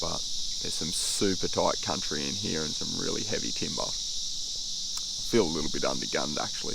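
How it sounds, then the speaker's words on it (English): Cicadas drone steadily in the background along a tiny mangrove creek, a continuous high buzzing that runs under someone talking close by throughout. "You might be able to hear the cicadas humming away in the background."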